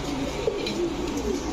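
A pair of Indian Bombay pigeons, male and female, in a loft; soft low cooing rolls along steadily and close, alone with no voices.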